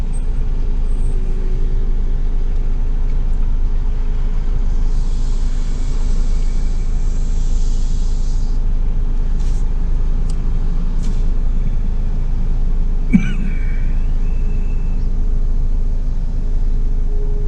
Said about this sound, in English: There's more coming. Trucks, dump trucks.